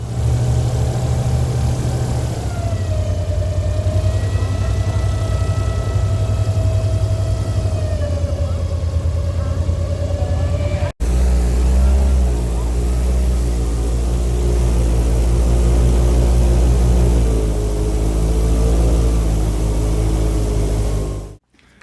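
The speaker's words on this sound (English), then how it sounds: "We then took an airboat ride on Lake Panasoffkee." Airboat engine roaring during a ride on Lake Panasoffkee, a loud, continuous droning hum whose pitch shifts slightly over about twenty seconds before cutting off abruptly at the end.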